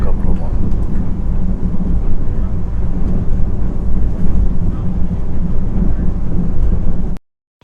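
A tour boat heading from Bergen to Modalen churns out a loud, steady low rumble mixed with wind buffeting the microphone, holding constant for about seven seconds before cutting off abruptly.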